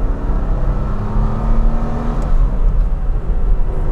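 A 1960s Jaguar S-Type saloon accelerates hard in second gear, its engine note rising as a loud, steady, close-miked drone that stays strong to the end, with no talk over it.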